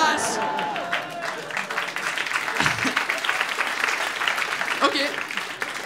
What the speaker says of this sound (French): On applaudit Venezuela